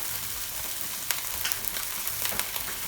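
Finely chopped garlic and thyme frying in a pan, a steady crackling sizzle with small pops and a few stirring scrapes, close and alone.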